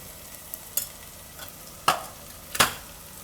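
Spices and chili powder being stirred into hot oil in a pan while cooking guvar and soya vadi curry, with a few distinct scraping stirs against faint background sizzle.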